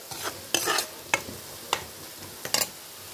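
Eggs frying in a pan with chilli powder, a moderate sizzle steadily underneath several crisp, evenly spaced knocks and scrapes from a spoon stirring, close by with no talking.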